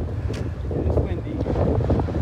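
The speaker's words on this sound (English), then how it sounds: "It's windy," Wind blowing hard during a snowstorm on Mount Laguna, a steady low rushing roar buffeting the microphone throughout, loud and close with no clear speech.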